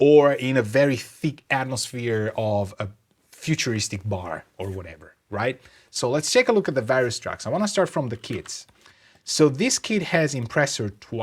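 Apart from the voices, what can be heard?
None of the usual background noises is heard.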